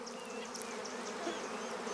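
Stingless bees buzz steadily at their colony's nest entrance, a continuous close-up drone of many insects with scattered higher whines of individuals darting past, alone with no voices.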